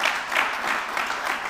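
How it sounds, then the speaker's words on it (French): An audience at a car club gathering applauds a guest, a full, steady roar of clapping from a crowd indoors, even and sustained with no voices above it. "on peut l'applaudir beaucoup"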